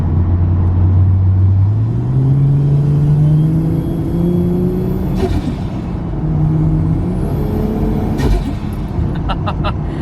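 A Nissan R33 Skyline drives along, its engine note climbing steadily through the gears in a loud, continuous cabin drone, with brief sharp clicks and hiss near the middle and end.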